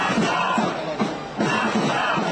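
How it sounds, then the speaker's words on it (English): A protest crowd at a rally over the deaths of hostages held in Gaza chants in loud, dense, rhythmic bursts, many voices merged into a continuous roar. "Murderer, the crowd chants"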